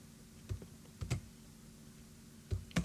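Quick key presses on a computer keyboard for Ctrl+A and Ctrl+V shortcuts, a few soft clustered clicks in two short bursts, close and quiet with no talking.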